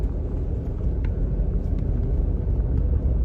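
A 2000 Cadillac SLS drives along from inside the cabin, with a steady low engine and road rumble. The drone stays even and continuous throughout, with no talking.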